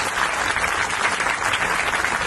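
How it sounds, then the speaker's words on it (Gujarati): An audience claps steadily for Surat police at a public gathering marking the peaceful end of Ganeshotsav and Eid-e-Milad, with the dense applause sustained at an even level throughout. "એ બદલ એમના માટે આપણે સૌ લોકો તાળીઓ વગાડશું."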